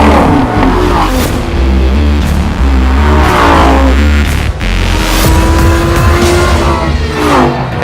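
A Lamborghini Gallardo LP 550 with a 5.2-liter V10 mounted behind the driver roars loudly on a racetrack. It revs and accelerates in repeated rising surges with brief lifts between them, and no one speaks.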